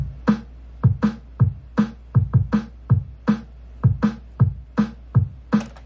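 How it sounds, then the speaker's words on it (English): A programmed drum pattern for a cover, with a steady loop of punchy kicks and snappy hits repeating in a busy, syncopated rhythm, close and alone. "Yeah, and then I decided to add the drums."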